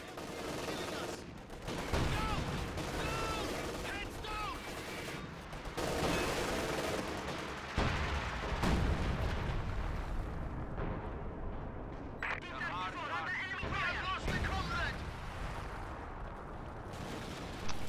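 An ML-20 artillery gun fires repeatedly in a war strategy game, with heavy booms and dense gunfire rolling across a noisy battlefield and a voice talking over the din.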